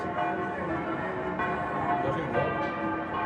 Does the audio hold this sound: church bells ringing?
yes